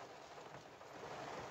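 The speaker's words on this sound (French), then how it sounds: "Il se remet à pleuvoir." Steady rain falls outside a car, a continuous soft hiss of drops with no breaks, faint and even throughout.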